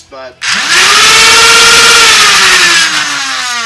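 Worker flywheel kit motors in a Nerf Stryfe blaster running on a 2S battery spin up sharply into a loud, steady high-pitched whine that holds, then eases slightly; a brief word is spoken just before.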